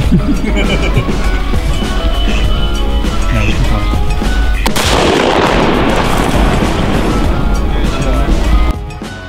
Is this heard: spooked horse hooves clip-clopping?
no